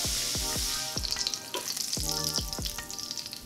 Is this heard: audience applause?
no